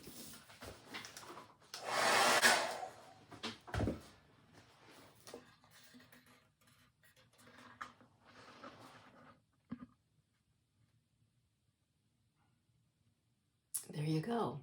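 A hair dryer blows on an image transfer potion project in a brief, steady burst of airflow, mixed with short clicks and handling sounds, then stops into near silence before a final burst of noise.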